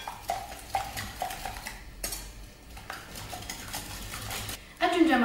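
Eggs and grated parmesan being whisked together in a bowl, a whisk clinking and scraping steadily against the sides in quick repeated strokes, with a sharper clatter near the end.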